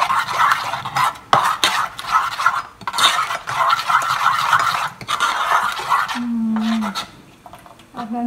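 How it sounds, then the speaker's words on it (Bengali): A spoon stirs and mixes kholaja pitha batter in a bowl, giving continuous scraping and clinking strokes in an uneven rhythm, close and fairly loud, with brief pauses and a short tonal sound near the end. "আমি চামচ দিয়ে করে নিচ্ছি"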